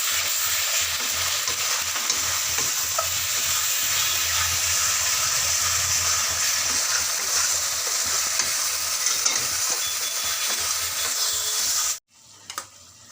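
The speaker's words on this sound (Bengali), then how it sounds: "রসুন পেঁয়াজ একটু নেড়ে নিলাম, ভাজা হয়ে এসছে, লাল লাল হয়ে এসছে" Garlic and onion stirred and frying in a pan give a steady, loud, close sizzle with scraping for about twelve seconds, then cut off abruptly into near silence.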